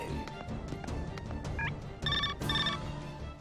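A telephone rings in the indie video game Zombie Shotgun Massacre 3, with short bright electronic trill bursts standing out over a busy, steady game soundscape.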